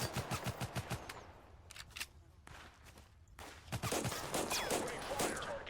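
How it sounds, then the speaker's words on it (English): Automatic and single gunfire in Total Conflict: Resistance, set on the Belomorye map: rapid bursts of close shots crackle in clusters, pausing briefly, then a dense sustained volley near the end. "And I'm being shot at again"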